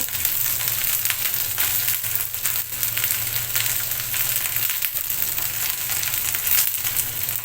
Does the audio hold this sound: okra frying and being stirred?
yes